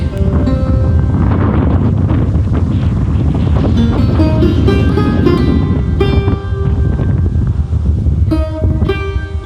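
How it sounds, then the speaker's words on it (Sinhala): Strong wind buffets the microphone at an open-air campsite, a constant loud roaring rush throughout, with faint whistling tones rising above it and no speech. "මෙතන තියෙන හුළඟත් එක්ක වැඩේ කරන්න බෑ"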